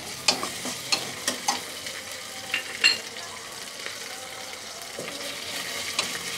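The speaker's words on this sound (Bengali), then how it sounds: "আদা রসুনটা একটু ভেজে নেব।" Ginger garlic paste fries with onions in a pan, giving a soft, low sizzle broken by several sharp scraping stirs and clinks of the spoon against the pan.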